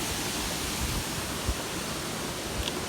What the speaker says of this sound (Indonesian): Ini air terjun lagi.